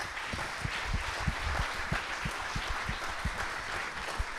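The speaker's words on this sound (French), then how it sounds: "Je vous propose de remercier nos 4 intervenants en les applaudissant." An audience at a conference applauds four speakers, a steady patter of scattered claps from a modest crowd in a room, moderately loud and continuing throughout without talk.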